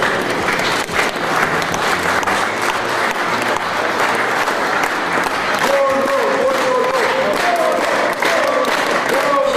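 A congregation applauds inside a church after an oath ceremony, with steady, dense clapping that fills the room throughout and voices rising beneath it toward the end.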